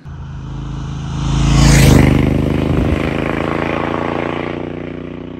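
A Brixton Cromwell 1200 motorcycle with a 270-degree parallel-twin engine rumbles loud and close with a deep, throbbing exhaust note, swelling as the revs climb briefly and then settling back to a steady run.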